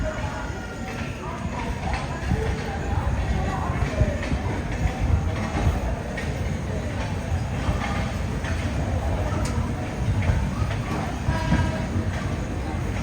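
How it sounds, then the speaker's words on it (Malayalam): Express train pulling out of Bilaspur Junction on the Howrah–Mumbai CSMT line, a steady close rumble of wheels and carriage noise throughout, with talk over it. "ബിലാസ്പൂർ ജംഗ്ഷനിൽ കറക്റ്റ് 8:15 തന്നെ നമ്മുടെ ട്രെയിൻ ഇത് എടുത്തിരിക്കുകയാണ്"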